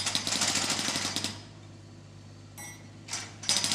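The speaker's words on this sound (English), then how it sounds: "The clever digger can spin all the way around and hammer on the other side too." Digger with a hydraulic hammer attachment breaking up pavement, a loud rapid rattling burst that stops, then short hammering bursts resume after a pause, with an engine idling underneath.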